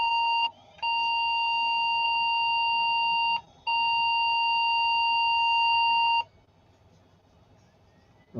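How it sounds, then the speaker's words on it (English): A home-built vintage computer gives three long, steady electronic POST beeps, each held for a few seconds with short gaps between, loud and clear over a faint background hiss. "I don't expect any change in the 3 long beeps"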